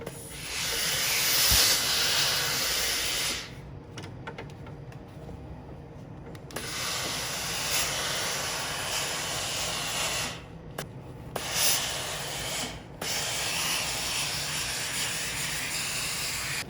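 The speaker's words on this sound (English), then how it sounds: "we're going to steam it into place" A steam iron hisses while fusing interfacing onto a fabric dog leash, long loud bursts of steam separated by brief quieter pauses.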